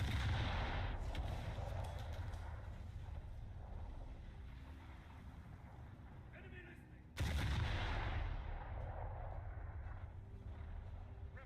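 Naval guns fire in War Thunder at sea, with two heavy booming blasts that roll into a long rumbling decay over wind and engine noise, distant and muffled.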